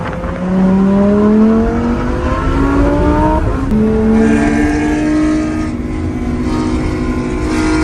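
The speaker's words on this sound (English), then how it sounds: "Some car comes around us here." A race car engine revs loudly up through the gears at the Circuit of the Americas track, then roars past close by and fades into the distance.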